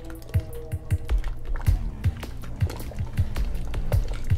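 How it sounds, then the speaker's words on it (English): Thick Chamorro chicken curry being stirred in a pot, a steady series of wet, squelching thuds roughly every half second, close and clear with soft background noise. "So go ahead and stir this really well"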